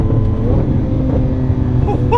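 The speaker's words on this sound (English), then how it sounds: "Listen to the overrun." Lamborghini Aventador S from 2018 on engine overrun, a loud close V12 drone with crackling pops and burble as the throttle lifts, heard from inside the car.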